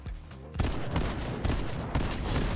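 Gunfire in mobile Fortnite rattles as a dense, continuous fusillade of rapid shots after a brief quieter lead-in, staying loud and steady to the end with a few stronger bursts.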